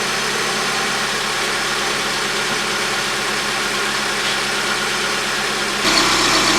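A car engine idles steadily after a head gasket replacement, a continuous even rumble with faint ticking, slightly louder near the end.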